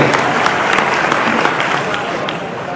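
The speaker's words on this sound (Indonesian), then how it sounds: "Tepuk tangan dulu untuk Kota Jambi" Applause from an audience at a Jambi city government socialization event on RT head elections, steady dense clapping filling the whole stretch at close range and slowly tapering, with no speech over it.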